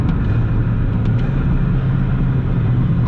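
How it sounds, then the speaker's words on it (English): A high-mileage car with a stock supercharger idles nearby in a steady, loud low rumble with a faint whine above it, unbroken and alone for about three seconds. "the supercharger just sounds so good"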